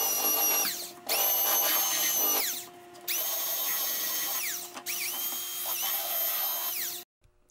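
Belt sander smoothing a wooden mold, a loud whining motor running in three long bursts with brief pauses, pitch dipping as the belt bites into the wood, then cutting off at the end.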